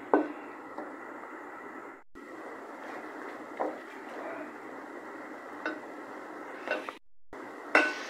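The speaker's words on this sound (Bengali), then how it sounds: "এভাবে 3 মিনিট মশলাগুলোকে কষিয়ে নিতে হবে।" Spices for muri ghonto, a fish-head dish, are stir-fried in a pan: a steady close sizzle with metal utensil scrapes and clinks at intervals, briefly cut by two short gaps.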